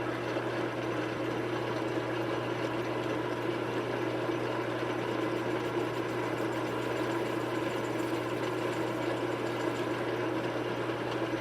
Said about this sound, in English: To bring it to final dimension, I'll use the lathe.